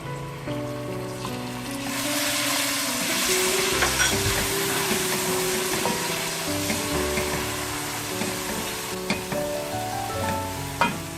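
Ginger garlic paste hits hot oil with onions in a wok, making a loud, close, continuous sizzle with occasional stirring clatter. A melodic background tune plays underneath throughout.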